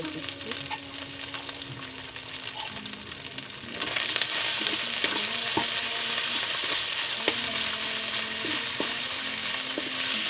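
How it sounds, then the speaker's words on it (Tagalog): String beans and canned ground meat sizzling and being stirred in a pan, a steady frying hiss that grows louder partway through, with scraping and clinking of the spoon, no talk. "Haluin natin ng maigi."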